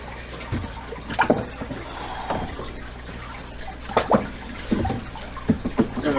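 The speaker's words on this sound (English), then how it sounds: "I'm draining all the water out" Water drains from a marbled crayfish tank with a steady trickle and splashing, broken by a few sharper gurgles and drips at close range, no voices.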